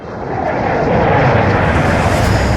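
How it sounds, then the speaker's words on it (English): A loud aircraft engine roar swells and holds as the Blackbird jet banks around and drops into a steep approach to a landing strip, with the rushing drone close and steady throughout. "Wolverine banked the Blackbird around and dropped the plane into a steep approach to the landing strip"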